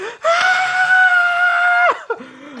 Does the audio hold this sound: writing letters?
no